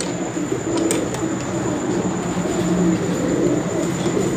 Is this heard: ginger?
no